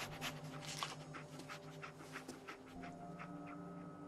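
Dogmeat, the dog companion in the video game Fallout 4, pants steadily in quick, soft breaths, close and faint, over a low ambient game-music hum.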